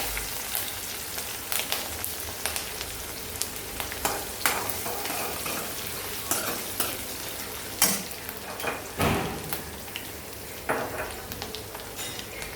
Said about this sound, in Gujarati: હવે આપણે આમાં નાખીશું 5 ઝીણા કાપેલા લીલા તીખા મરચાં